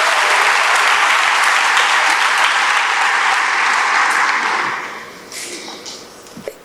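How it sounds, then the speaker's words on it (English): A large audience at a formal university event breaks into loud, sustained applause that holds steady for several seconds before thinning out into scattered claps and fading. "she deserves a round of applause"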